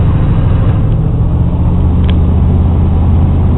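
A car engine held at high idle around 1600 RPM with the AC compressor engaged, a loud, steady, close-up hum and rumble that holds constant throughout without talk.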